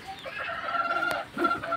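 Chickens in a hot, soon-to-be-roofed backyard coop cluck in short, uneven bursts close by, with no one talking.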